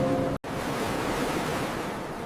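Ocean waves and breeze on a beach shoreline at sunset, a steady broad wash of surf and wind, cut by a brief silent dropout near the start, then continuing evenly.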